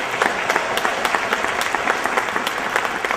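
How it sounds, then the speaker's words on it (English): An audience claps steadily and loudly for a woman being honoured at a Juneteenth father awards presentation, a dense, even stream of many hands throughout. "we just like you to give her a round of applause to acknowledge Ms. Ware"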